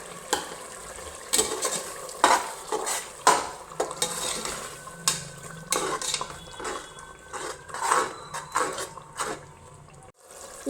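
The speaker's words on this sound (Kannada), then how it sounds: "ಚೆನ್ನಾಗಿ ಮಸಾಲೆ ಬೆಂದು ಎಣ್ಣೆ ಬಿಟ್ಟ ಮೇಲೆ ರುಬ್ಬಿರುವಂಥ ಮಸಾಲೆನ ಹಾಕೋಬೇಕು." Ground masala for mushroom palav frying in oil in a pan, stirred with a utensil that scrapes and clinks against the metal in repeated strokes over a low steady sizzle, close by with no talking.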